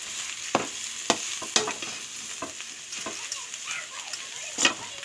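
Potato masiyal with kesari powder stirred in a pan: sharp spoon taps and scrapes land roughly every half second over a gentle sizzle, close and clear, no speech.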